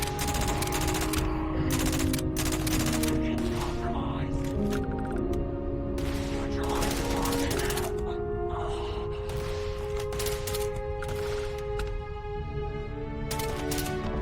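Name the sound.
gunfire in the video game Starfield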